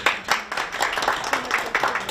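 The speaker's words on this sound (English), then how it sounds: "You got a round of applause." A small group claps at a Queens borough board meeting, irregular individual hand claps close by, moderately loud, with a voice briefly mixed in.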